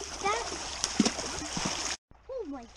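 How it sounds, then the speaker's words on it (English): Rapids on a creek splash and gurgle steadily close by, with bursts of water spray and a voice speaking over the rushing flow before a short gap and more talk. "You got some rapids?"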